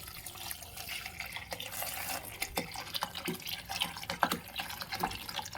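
Water pours into a pressure cooker holding dal, a close, steady splashing and trickling stream with small drips running through the stretch, and no talk over it.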